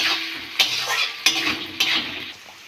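Ginger frying with garlic and onion in a pan, a close steady sizzle broken by three sharp scrapes and knocks of a spoon against the pan, with no talk.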